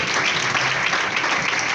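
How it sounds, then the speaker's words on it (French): Steady applause from an assembled audience at a ceremony honoring a named guest, dense, even clapping that continues throughout without a break. "On applaudit pour elle, s'il vous plaît."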